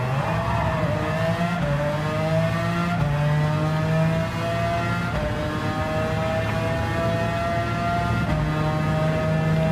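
A race car in Gran Turismo 7 on the Le Mans circuit accelerates hard, its engine note climbing steadily through the gears with brief dips at each shift, loud and continuous throughout.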